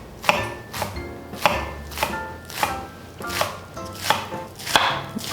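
Knife cutting lettuce into long thin strips on a board, about ten crisp, evenly spaced chops, close and clear with no talking.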